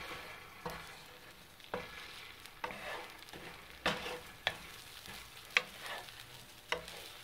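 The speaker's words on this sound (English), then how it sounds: "So you always want to cook those eggs on medium." Eggs with Parmesan cheese, Italian seasoning and pink salt cook in a pan over medium heat, a soft steady sizzle broken by a series of sharp scraping stirs and taps of a utensil every second or so, close and fairly quiet.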